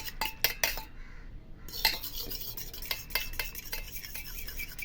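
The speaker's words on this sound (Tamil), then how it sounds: "பாருங்கள், இந்த அளவுக்கு நல்லா இந்த மிக்ஸ் பண்ணுவோம்." A spoon clinks and scrapes against a bowl while stirring aloe vera gel and coconut oil into a hair mixture, with steady close scraping and a brief pause.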